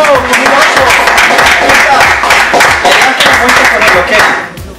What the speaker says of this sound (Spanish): Un aplauso por los panas.